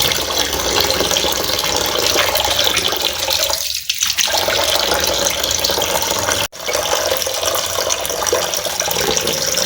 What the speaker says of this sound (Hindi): कलेजी को अच्छी तरह से धोएंगे ताकि इसमें से सारा ब्लड जो है वो निकल जाए और ये साफ़ सुथरी हो जाए।